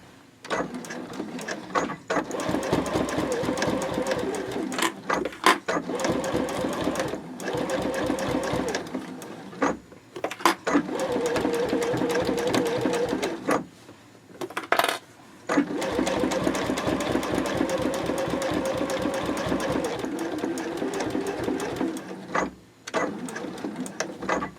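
A sewing machine stitches in the ditch along a quilted boxy bag with French seams, running at a close, steady whirr in long bursts broken by short pauses for back stitching at the ends.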